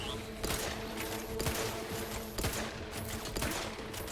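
Gunfire in The Outer Worlds 2, with short bursts of shots cracking out roughly once a second over a steady background of game sound.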